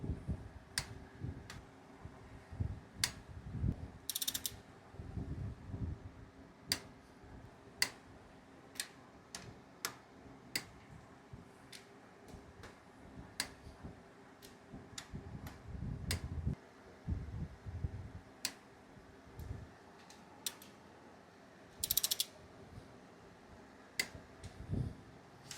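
Torque wrench ratcheting down ARP rod bolts on scat rods in a Honda B18 engine, giving sharp isolated clicks at uneven intervals over low shuffling handling noise, with a couple of louder rattling bursts.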